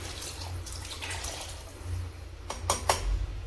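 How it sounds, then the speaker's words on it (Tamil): Water ladled into a pot of country chicken curry being prepared for a pressure cooker: soft pouring and splashing with a couple of sharper splashes near the end, close by and moderately quiet. "ஆனால் இன்னும் கொஞ்சம் தண்ணி ஊற்றணும்."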